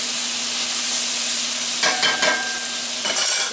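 Sweet potato home fries sizzle steadily in a pan, with a few scraping stirs of a utensil breaking through the constant frying hiss.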